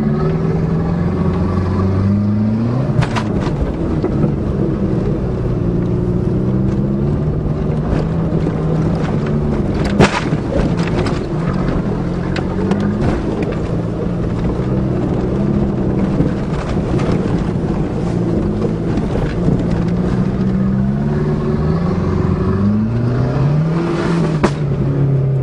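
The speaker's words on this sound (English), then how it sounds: "it was a rev limiter kicking in." The engine of a Shelby Z Aries race wagon revs up and drops back over and over, a steady loud mechanical drone with rising and falling pitch and wind noise throughout, no talking.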